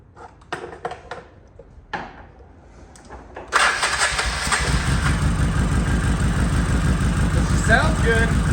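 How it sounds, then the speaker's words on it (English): A Polaris Sportsman 700 ATV being jump-started after its battery went flat, with a few cranking bursts and clicks, then the engine catches around midway and settles into a loud, steady idle, with speech over the start. "I'm gonna try to jump it a little bit, see if we can get it going"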